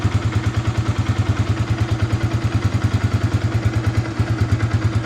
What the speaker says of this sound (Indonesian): jadi kita bisa melihat bunyi mesinnya ya